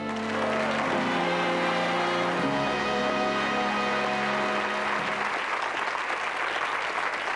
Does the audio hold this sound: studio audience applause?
yes